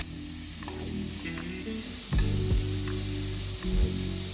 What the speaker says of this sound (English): We're gonna cook the salmon cubes for about 2 minutes per side.